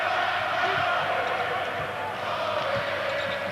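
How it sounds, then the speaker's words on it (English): A Venezuelan crowd at a 2002 Basketball World Championship game against New Zealand makes steady, loud arena noise throughout, a continuous roar of voices with faint thuds that may be ball bounces. "Yeah, they're a happy crowd. They're making a lot of noise."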